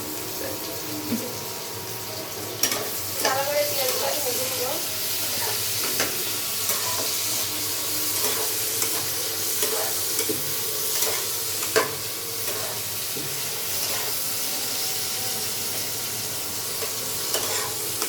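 Spices fry in hot oil for a village-style Bengali beef and radish curry, a continuous close sizzle broken by scraping stirs and clinks, with soft voices briefly in the background.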